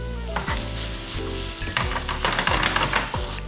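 Minced garlic and carrot stir-fry in a pan for japchae, a steady close sizzle broken by repeated scraping and tossing strokes, with a musical tone running underneath.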